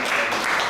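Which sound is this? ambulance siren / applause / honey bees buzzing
applause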